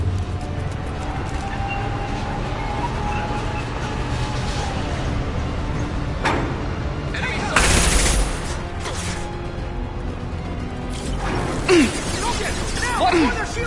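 Sparse, muffled shots of Mass Effect video game gunfire crack now and then over a steady industrial hum, with a louder burst near the middle and voices in the mix.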